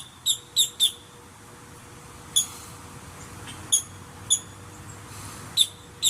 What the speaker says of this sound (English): There's usually a lot more birds out in the afternoon.